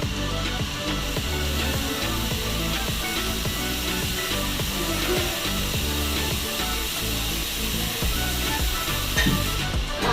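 Ground masala paste for a Kerala-style crab curry sizzles and bubbles steadily in a pan, a dense, even frying hiss with a soft rhythmic pulsing underneath that runs without pause for ten seconds.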